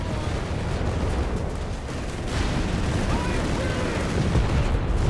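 Tank cannon fire and explosions from a Company of Heroes 3 battle, with a Sherman tearing apart a Panzer; a dense, continuous rumble of booms and gunfire under steady commentary talk.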